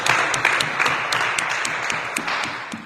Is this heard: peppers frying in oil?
no